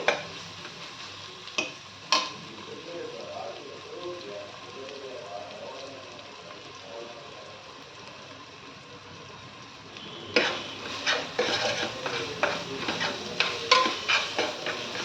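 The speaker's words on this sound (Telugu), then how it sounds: "ఇది ఎంత వేగితే అంత టేస్ట్ వస్తుంది కూరకి. బాగా వేగాలండి." Chicken curry fries with a low, steady sizzle in a pan, broken by sharp scraping stirs at the start and a quick run of spoon knocks and scrapes near the end.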